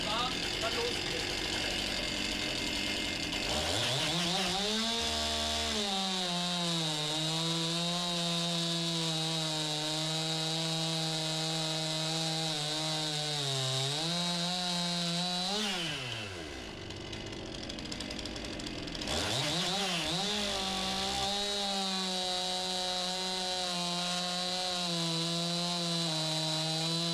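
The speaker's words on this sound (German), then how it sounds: "Säge ist warm, kann losgehen." A Stihl MS 261 chainsaw with 3/8" chain cuts through oak, the engine revving up to a loud, sustained high whine, dropping back to idle briefly, then bogging into another long cut.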